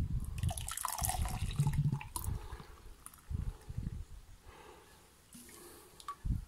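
A strawberry protein shake pours into a mug in uneven, splashy gurgles and drips, loud and close in bursts with quieter gaps between them.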